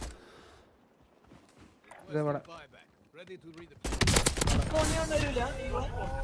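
Gunfire from a sniper rifle echoes through a Call of Duty match, with sparse shots early on giving way to dense, loud, rapid bursts, as players talk excitedly over the action.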